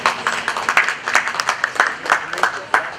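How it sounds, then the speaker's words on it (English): Half-hearted applause from an audience at a networking dinner, a modest scattering of claps with uneven rhythm, fairly close and short-lived. "it's kind of a half-warm applause there"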